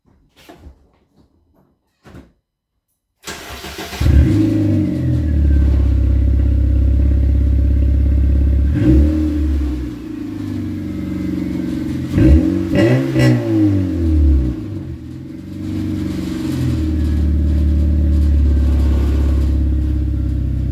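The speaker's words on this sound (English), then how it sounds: "Let's go ahead and do a cold start." An 8th-generation Honda Civic with a dual-chamber muffler cold-starts: the engine cranks and catches after a few quiet clicks, then settles into a deep, steady idle with several throaty revs rising and falling.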